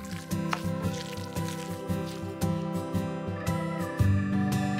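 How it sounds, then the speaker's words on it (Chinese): Seasoned pork filling with diced shiitake mushroom, salt, pepper, cooking wine, soy sauce and scallion being mixed by hand, giving repeated wet squishing and slapping strokes in a steady rhythm, close and clear. "把这个肉馅搅拌均匀"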